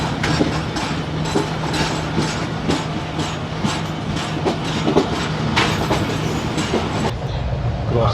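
The Karakoram Express races past at high speed on the Lahore to Bahawalpur main line, a loud steady rumble with rapid rhythmic clickety-clack of wheels over rail joints from start to finish.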